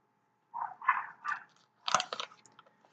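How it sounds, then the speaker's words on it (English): Dogs bark and yip in two short bursts, a few quick close barks followed by a second sharper cluster, fairly quiet, with silence before and between. "ignore the awesome dogs up there"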